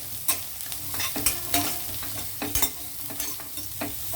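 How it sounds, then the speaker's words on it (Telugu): Onions and carrots fry in a pan while being stirred, with steady sizzling broken by repeated scraping strokes of a spoon. The sound is close and has no talk over it. "ఇదిగోండి, ఉల్లిపాయలు కొంచెం వేగాయి కదా, ఇప్పుడు మనం క్యారెట్ వేద్దాము."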